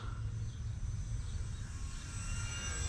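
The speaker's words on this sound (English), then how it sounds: "Do another slow flyby here for the camera." HobbyKing P-51D Mustang RC plane on a 2-cell pack making a slow flyby, a steady, moderately faint electric motor drone with low rumble that holds evenly throughout.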